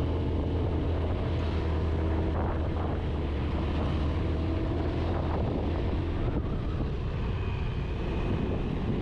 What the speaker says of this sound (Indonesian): Maklum, motor tua, motor udah turun mesin